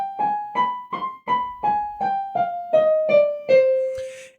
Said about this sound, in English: And the harmonic minor scale sounds like this.